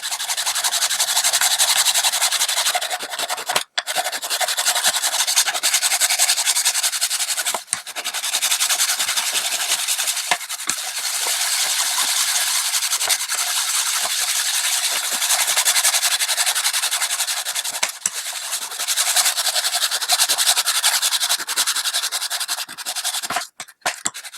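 Hand file strokes grinding along the long edge of a metal part for a power supply build, a loud, dense, continuous rasping with only brief pauses, sped up to double speed.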